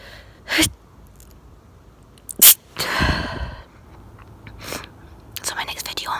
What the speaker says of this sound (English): That's why I'm sneezing.